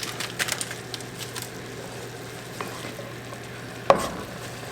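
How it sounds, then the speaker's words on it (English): Goat meat, onions and curry spice cook together in a pan, a soft sizzle with brief stirring scrapes near the start and one sharp clack of a utensil against the pot toward the end. "Let these onions and meat and this spice all cook together"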